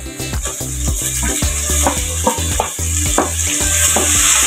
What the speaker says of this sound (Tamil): தக்காளி மசுற வரைக்கும் வதக்கணும்.